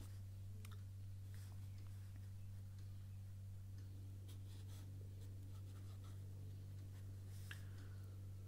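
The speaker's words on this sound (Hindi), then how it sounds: "तो इसका आंसर लिखते हैं." Faint scratchy strokes of a pen writing an answer by hand on paper, irregular and close, with occasional sharper ticks over a steady low electrical hum.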